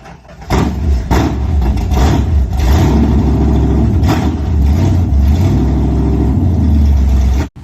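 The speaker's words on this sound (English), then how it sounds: "Listen to that Max Wedge engine roar." A Max Wedge drag car engine roars loudly and continuously, revving hard with a deep rumbling growl that holds steady before cutting off abruptly.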